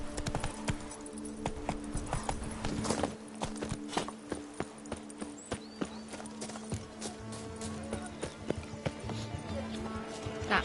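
Roach the horse trotting in The Witcher 3, a steady rhythmic clip-clop of hooves close by, with a brief whinny and game sounds around it.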